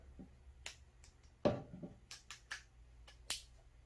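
Sharp clicks of a DJI Osmo Action 3 camera mount locking into place: several crisp, close snaps spaced irregularly over a few seconds, one louder than the rest, with no talk.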